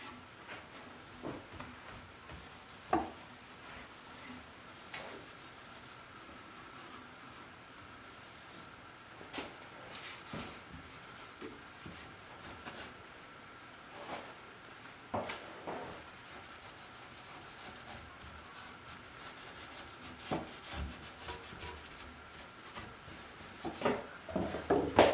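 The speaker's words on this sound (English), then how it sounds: "Just take an old rag, dip it in the can, and just wipe it on." An old rag wipes finish onto a wooden chair, giving a soft, steady rubbing and brushing sound with faint scuffs and occasional small knocks throughout, close and quiet.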